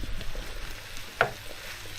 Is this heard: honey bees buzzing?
no